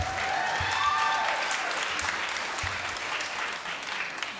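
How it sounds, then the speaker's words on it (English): Audience applause at a live show, a steady wash of clapping that holds loud through the whole stretch and fades slightly near the end, with faint voices beneath. "give yourselves a round of applause for sticking with it"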